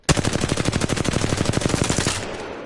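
Rapid automatic gunfire from a weapon in the shooter game Apex Legends, a loud, steady burst of evenly spaced shots lasting about two seconds, then a short fading tail.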